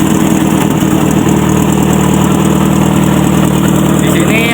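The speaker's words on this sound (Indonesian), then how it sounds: "Kemudian untuk mengukurnya kita harus menyalakan mesin mobil." A conventional car engine idles steadily and loudly throughout, a constant low rumble in a vocational school workshop during an ignition test.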